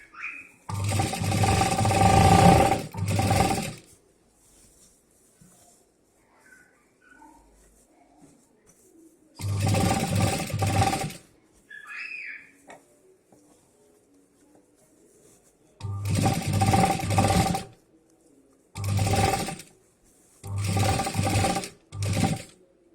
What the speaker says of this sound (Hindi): ऐसे यहाँ से स्टिचिंग स्टार्ट करना है